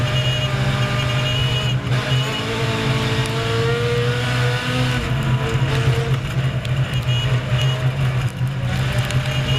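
Race cars run together on a track, engines holding a loud, steady droning roar close by, the pitch shifting slightly as they jostle for position, with no voices over it.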